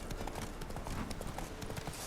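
A horse's hooves clip-clop at a steady trotting rhythm in The Witcher 3 video game, close and continuous, with a busy game soundscape behind them.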